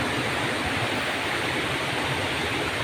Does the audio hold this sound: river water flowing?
yes